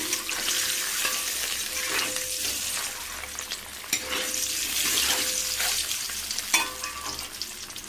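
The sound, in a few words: frying eggs in a pan for egg curry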